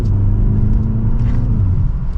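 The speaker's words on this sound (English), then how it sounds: "We'll do another acceleration here real quick" A 2024 BMW 330i xDrive M Sport accelerates in a loud, close, steady engine rumble with a rising drone, heard from inside the car on the road.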